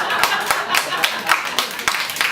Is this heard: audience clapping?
yes